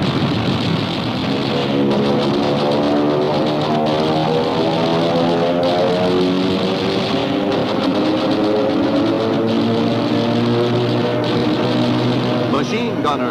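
WWII fighter planes roar in an air battle, a steady, loud droning engine noise with a dense low throb throughout, close and unbroken, with no clear gunfire standing out.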